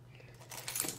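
A set of everyday-carry keys jangles briefly up close, a faint metallic rattle that swells toward the end.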